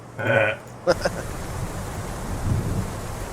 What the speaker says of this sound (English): Wind howls like a wounded god as rain lashes your face.